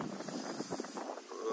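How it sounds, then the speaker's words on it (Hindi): Strong, cold wind buffets the microphone outdoors at about 8 degrees, a continuous rough roar with gusting swells throughout. "ठंडी हवा, बहुत ज्यादा हवा चल रही है"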